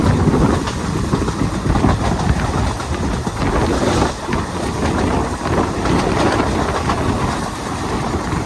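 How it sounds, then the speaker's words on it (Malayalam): Diesel locomotive hauling the Ernakulam–Velankanni Express, heard as a steady, loud rumble of running wheels and engine with wind buffeting the microphone throughout, continuous and close. "ശബ്ദമുണ്ട്, പിന്നെ നല്ല പുകയുണ്ട് നമ്മുടെ ലോക്കോയ്ക്ക്."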